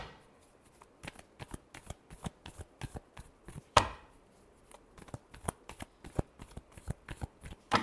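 Tarot cards being shuffled by hand: a run of sharp, close riffling snaps in uneven bursts, one louder flurry midway, with no talking over them.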